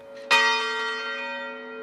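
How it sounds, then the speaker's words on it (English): A single church bell rung in the tower of St. Paul's Episcopal Church in Salt Lake City, one loud clear strike with a long, ringing, slowly fading hum. "parishioners helped ring the bell in the tower above"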